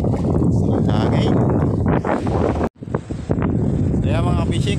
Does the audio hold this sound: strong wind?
yes